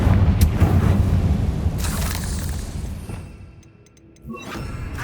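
Confringo fire spell blasting in the Hogwarts Legacy video game, a loud, dense rumbling explosion with crackling debris that fades, then a short chime-like sparkle and a fresh surge of noise at the end.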